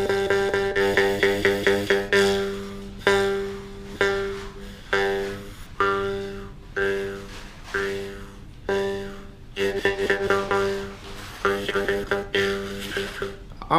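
A jaw harp twangs in steady rhythmic plucks, its buzzing drone bending in pitch as the mouth shape changes, loud and close for the whole stretch with no talk over it.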